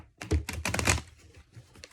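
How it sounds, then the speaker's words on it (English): A stiff deck of tarot cards being shuffled by hand, close and fairly quiet: a quick burst of crisp riffling flutters and snaps that tapers into softer rustling. "These cards are always so hard to shuffle."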